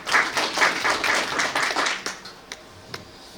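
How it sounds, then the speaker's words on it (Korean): An audience at a business policy forum claps to welcome a presenter, a couple of seconds of steady applause up close that thins out into a few last scattered claps. "박수로 맞이해 주시기 바랍니다"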